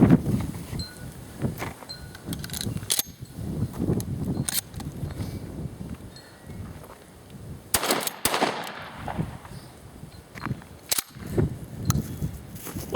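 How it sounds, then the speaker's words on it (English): Remington 870 Express pump-action shotgun fired outdoors, with several sharp, loud reports spread across the stretch and quieter rustling and handling noise between the shots. "I'm going to shoot a couple more rounds."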